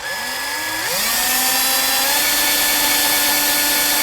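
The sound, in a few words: drill drilling out a broken bolt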